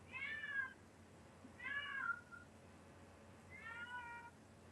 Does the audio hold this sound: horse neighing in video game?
no